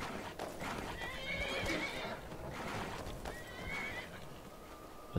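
A horse in the video game Skyrim whinnies twice, with hoof clops and light rustling around the calls, at moderate distance.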